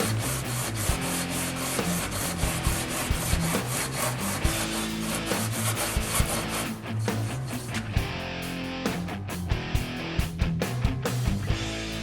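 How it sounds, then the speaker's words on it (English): Steady, rhythmic scraping of sandpaper rubbing back and forth across a wooden guitar body, close and continuous, with a brief pause partway through. "We're going to go ahead and start sanding away."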